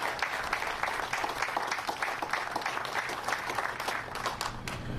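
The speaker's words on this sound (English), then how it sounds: "Let's give all these folks a big round of applause" A crowd applauds public safety officers at a Hyundai Metaplant budget signing, dense continuous clapping filling the space at moderate distance with no break.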